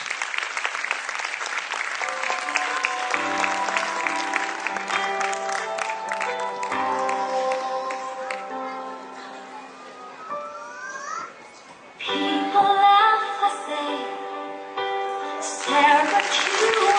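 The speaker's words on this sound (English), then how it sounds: "Now the clapping should not stop." A school audience claps for a children's dance performance at a junior wing annual function, with loud continuous applause over and alongside stage music, swelling again in later bursts.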